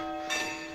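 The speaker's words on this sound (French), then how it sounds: "sur les sons des cloches, on va se diriger vers le bus" Church bells ringing out over a town in Patagonia, a brief bright metallic swell that rises and lingers faintly over steady background hum, heard from some distance.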